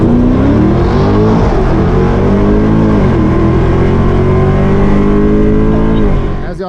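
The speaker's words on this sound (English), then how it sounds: "So much torque, the chassis twisted coming off the line." A cammed Dodge Charger Scat Pack with the 392 engine launches off the line, its loud V8 roaring up through the revs in one long sustained pull that fades slightly at the end, close and overpowering with no talk.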